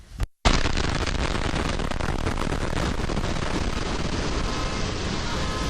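A sudden loud blast in a downtown area, heard from several blocks away, followed by a sustained, roaring rumble with crackling debris and noise that continues for several seconds, no voices.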